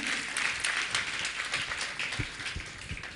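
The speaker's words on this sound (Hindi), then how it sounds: "एक बार जोरदार तालियां बजा के इनका स्वागत करें" Applause from an audience welcoming a guest at a Jain religious discourse: a steady, dense wash of many hands clapping at moderate volume, continuous without pauses, slightly distant.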